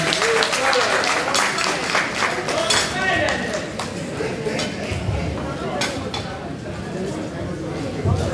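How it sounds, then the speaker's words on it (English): Guests at a community anniversary gathering applaud a donation, with a burst of claps at the start that thins out beneath ongoing chatter and the clink of dishes and cutlery. "Please give him a round of applause again for that donation."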